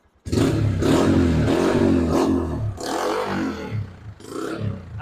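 A 125cc motorcycle engine runs and revs loudly up close while an exhaust-mode control box is tested, starting abruptly and holding a rough, pulsing drone.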